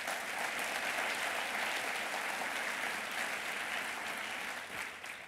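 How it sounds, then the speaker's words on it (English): Sustained audience applause at a state government conference announcing contracting goals, a dense steady clapping wash from a large crowd filling the whole stretch, fading slightly near the end. "let's give them a round of applause"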